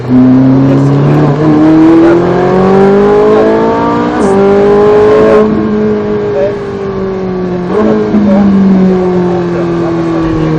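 Ferrari 458 Italia V8 rising under acceleration through a gear change, loud and close from the cabin, with engine harmonics climbing then stepping down at each shift, someone talking over it.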